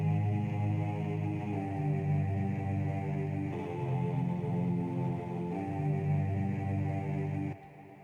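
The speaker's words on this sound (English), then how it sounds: "So this one is in the lower octave and it's a choir," Sustained choir-like synth pad playing a melodic trap chord progression in a lower octave, with smooth chord changes every couple of seconds, steady and alone, cutting off near the end.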